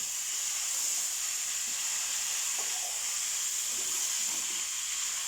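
Zucchini is stirred in a frying pan, giving a soft, even sizzle and hiss that runs continuously, with a few faint scrapes underneath.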